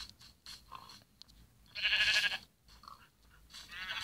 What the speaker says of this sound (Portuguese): Como que as ovelhas escaparam?